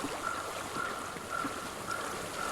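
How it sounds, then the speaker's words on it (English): Flowing stream water in the video game Hellblade: Senua's Sacrifice, a faint, gentle trickle and burble running continuously, soft and somewhat distant, with a faint repeating tone pulsing underneath. "I hear water."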